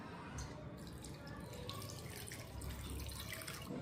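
Tap water runs steadily over vinegar-set milk curds being rinsed in a sink, a soft continuous splashing stream at moderate distance with no talking.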